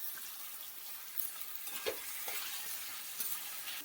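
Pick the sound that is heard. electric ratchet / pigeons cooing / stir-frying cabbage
stir-frying cabbage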